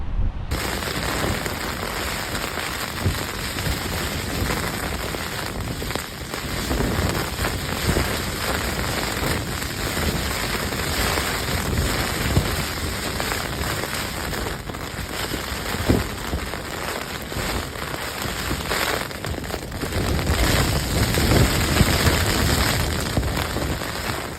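Steady wind and heavy rain roar continuously outdoors at a wild campsite at night, a dense broadband wash with gusts swelling louder near the end.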